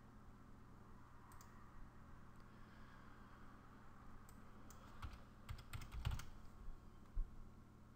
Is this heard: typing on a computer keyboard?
yes